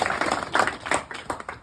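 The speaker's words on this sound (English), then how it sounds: "Guys can clap, you know?" A small comedy club audience claps sparsely in irregular bursts during a stand-up set, a handful of distinct nearby hand claps rather than full applause.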